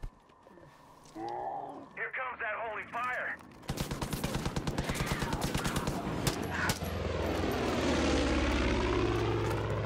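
In Far Cry 5, a propeller airplane drones loudly overhead amid bursts of gunfire and a rising engine roar. Voices talk briefly before the plane takes over.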